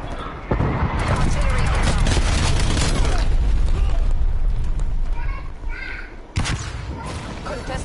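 Artillery fire in Call of Duty Cold War during a hardpoint match: heavy booming blasts and dense crackling gunfire roll on for several seconds, then a sharp burst returns near the end, with players' voices talking over it.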